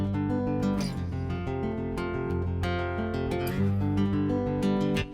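Fingerstyle guitar recorded in mono, its picked notes and low bass lines ringing steadily and closely with a compact, narrow sound, and no voices.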